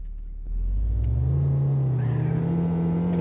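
The Renault Trafic van's engine in the City Car Driving game rumbles loud and close, then climbs into a sustained full-throttle rev that holds steady.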